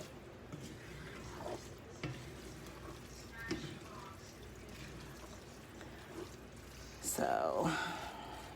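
Dirty rice mixture stirred in a pan, soft scraping and gentle sizzling with occasional utensil clinks, quiet and close, under a person talking.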